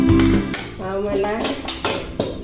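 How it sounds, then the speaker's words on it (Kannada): A metal frying pan is set down on a stove with a few clanking knocks and scrapes, loud and close, with no voice heard. "ಬಾಣಲೆಯನ್ನು ಇಡಬೇಕು."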